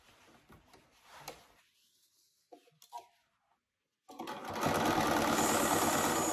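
A sewing machine stitches down the short edge of a board shorts waistband, a quiet scrape and a few faint taps first, then a loud, steady high whirring run through the last two seconds.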